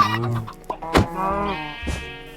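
Minecraft chickens cluck in short, close bursts inside a pen, a few quick squawks with no talking.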